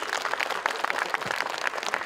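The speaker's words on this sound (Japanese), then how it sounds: "拍手、" A crowd claps steadily and evenly at a soccer-science event in Sendai, with the sound dense and close throughout.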